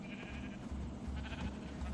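A Minecraft sheep bleats, a few short game-sound bleats repeating over a low steady background, fairly faint and with no talking.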